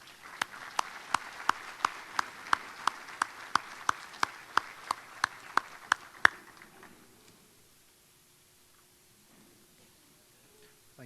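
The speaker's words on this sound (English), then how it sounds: "Folks, let's give these ladies a big round of applause." Audience at a Chamber of Commerce monthly luncheon claps for two women receiving a donation check: a crisp, regular series of loud claps near the microphone over softer crowd clapping, which thins out and fades to near silence.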